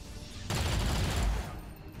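Gunfire in XCOM 2: a single loud, dense burst of rapid shots about a second long, starting abruptly and fading into a quieter tail.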